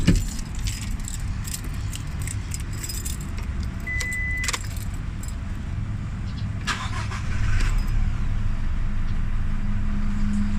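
A key unlocks a Redbat double pedal lock fitted in a Toyota Hilux Revo, with close metallic jingling and clicks over a steady idling engine hum that gets slightly louder near the end.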